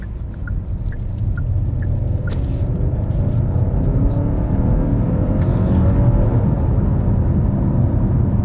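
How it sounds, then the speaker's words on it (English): A 2023 Genesis G80 2.5T Sport Prestige accelerates on the road, its engine note building into a steady, loud rumble mixed with road and cabin noise, heard alone. "This turn, we're going to give the car a little bit more gas."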